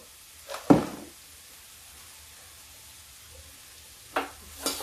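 Masala for a turnip curry fries in a little oil as fennel and black pepper go in: a short, sharp sizzle flares up, fades into near quiet, then two softer sizzles return at the end.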